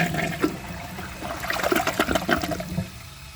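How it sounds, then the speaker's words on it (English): A 2022 Mainstays high-efficiency toilet flushing, water rushing and gurgling close by, then tapering into a trickle as the bowl refills. "So I'm going to do another press and release flush and see if it can take the rest of that."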